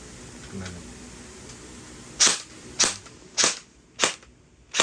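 MP5 gel blaster with blowback, rated around 240 to 260 fps, firing single shots: five sharp, close, loud snaps spaced about half a second apart after a quiet start, no talking.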